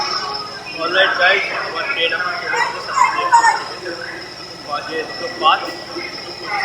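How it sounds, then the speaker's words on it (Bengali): A moving passenger train heard from a window seat inside the carriage, with a steady rumbling rattle and faint wheel squeal running underneath continuous close talking. "এটা হচ্ছে আমার ট্রেন ঠিক আছে"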